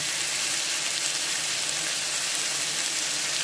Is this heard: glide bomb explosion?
no